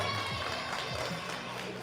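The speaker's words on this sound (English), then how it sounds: "Huge round of applause for the competitors." Crowd at a Dagwood dog eating contest at the Ekka applauding and cheering the competitors, a steady wash of clapping and voices held at a moderate level throughout.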